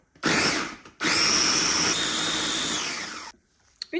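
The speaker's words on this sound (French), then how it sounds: "À présent, je rajoute mon eau et je viens mixer le tout jusqu'à obtenir une consistance" A kitchen blender whirs loudly and steadily, mixing homemade burger sauce with added water, in two bursts with a brief pause between them and no voices.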